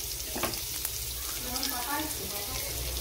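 Homemade chicken kebabs fry in a pan with a steady, close crackling sizzle that fills the whole stretch, a few sharper pops breaking through, and faint voices murmur underneath.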